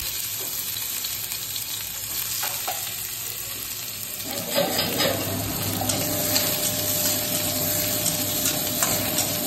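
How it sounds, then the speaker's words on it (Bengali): Onions frying in oil in a kadai with five-spice tempering, a steady close sizzle that swells louder midway as the onions go in, with some stirring and scraping. "আর একটু ফোড়ন দিয়ে দিলাম, 5 ফোড়ন, আর তারপরে দিয়ে দিচ্ছি পেঁয়াজগুলো"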